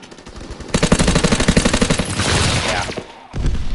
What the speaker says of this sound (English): It's definitely like a super close range, high fire rate SMG